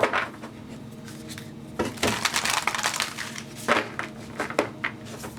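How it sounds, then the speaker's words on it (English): A deck of Divine Energy Oracle cards being shuffled by hand, with close, crisp bursts of papery riffling and clatter coming in short clusters separated by quieter pauses, and no talking. "I have the Divine Energy Oracle cards here that I'm also going to shuffle"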